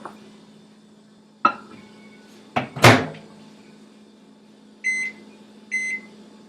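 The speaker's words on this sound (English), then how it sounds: "we will just put it in the microwave for 30 seconds" A microwave oven softening butter in a bowl: a door thud and clatter, a low running hum, then two short electronic beeps near the end.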